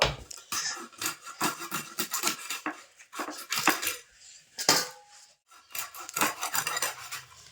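A knife chops tilapia fish into pieces on a board, giving a run of uneven knocks and scraping clatter, close and moderately loud, with short pauses between cuts.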